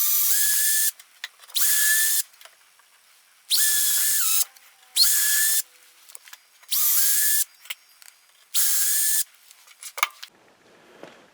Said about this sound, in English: drill basically just through the leg, not into the top.